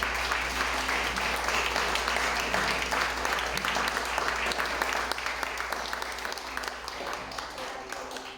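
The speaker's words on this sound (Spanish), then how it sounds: "¿Por qué no das un fuerte aplauso?" Church congregation applauding after an altar call at a Spanish-language service, steady dense clapping from many hands filling the room for the whole stretch, slowly tapering toward the end.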